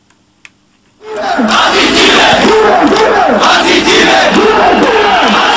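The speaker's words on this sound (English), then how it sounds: "In Pakistan, crowds celebrate a murder" A large crowd in Pakistan celebrates with loud, continuous chanting and rhythmic shouting that bursts in after a second of near silence and keeps going without a break.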